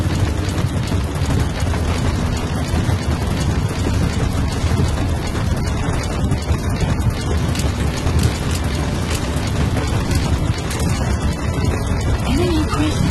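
Steady rainfall in Metal Gear Solid V: The Phantom Pain, a dense, even hiss of rain that holds at the same loudness throughout, with no voices over it.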